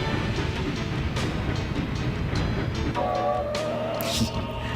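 A train moving in the video game MediEvil, a steady rumbling clatter with a low droning tone that sets in partway through, continuous and fairly loud throughout.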